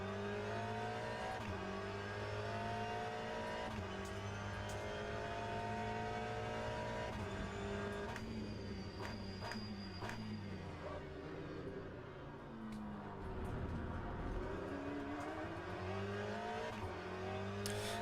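Race car engine in the Le Mans Ultimate video game, loud and close throughout, rising and falling through repeated gear changes with downshifts and brief lifts on corner entry.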